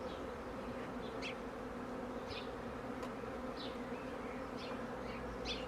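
Honey bees hum steadily around an open hive during an inspection, a close continuous drone with brief louder buzzes as individual bees fly past.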